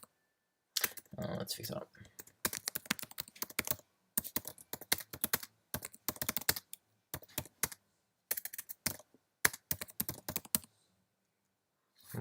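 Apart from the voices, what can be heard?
typing on a computer keyboard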